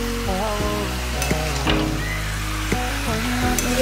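Cabbage with rohu fish head sautéing in a pan gives a soft, steady sizzle and occasional stirring, half-buried under louder tonal background music throughout.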